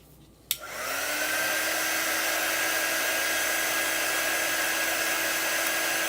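A hair dryer switches on with a click and runs as a steady, close whine and rush of air while drying a chalk transfer on a Santa chalk art piece.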